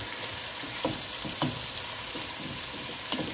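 Onions frying in a pan for Kesari Murgh, a steady close sizzle and crackle with occasional soft scrapes of stirring, continuous and fairly loud, no speech.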